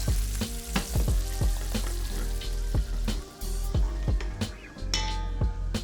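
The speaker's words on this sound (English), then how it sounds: "Carefully add in about half of the hot oil while stirring to let the flavors combine." Hot oil poured over chili flakes in a bowl crackles and sizzles loudly while a spoon stirs, with clinks against the bowl throughout.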